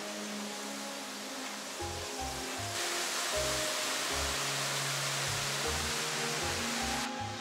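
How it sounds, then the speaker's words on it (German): Steady, dense roar of waterfalls in the Alps near Grindelwald, heard from just above the falls, loud and unbroken throughout with a low rumbling pulse underneath. "So, jetzt bin ich oberhalb der Wasserfälle."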